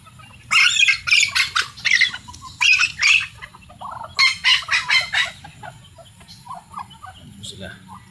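Backyard chickens cluck and squawk in a run of loud, close calls for several seconds, then fade to scattered softer clucks over a quiet background.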